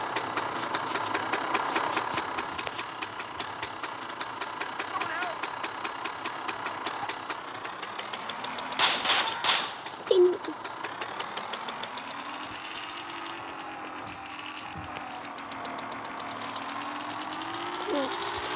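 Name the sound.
slow motorcycle engine idling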